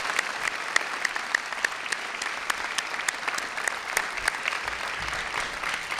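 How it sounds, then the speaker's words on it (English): An audience at a Langara College convocation applauds the platform party with steady, continuous clapping, individual sharp claps standing out from a dense wash of many hands, moderately loud and sustained throughout. "Please give our platform party a round of applause."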